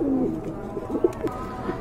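Pigeons at a bird market coo softly in low throaty bursts close by, with a few brief scattered calls over a murmuring background.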